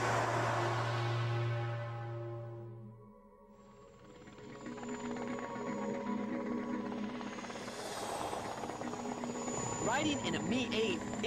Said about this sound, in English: Riding in a Mi-8 isn't exactly my idea of no-frills flying